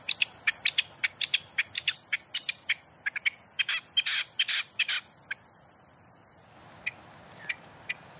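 A rock partridge on a sunny, open Alpine slope gives a rapid run of harsh, repeated clucking calls that grow denser, then break off into a few sparse, spaced notes near the end.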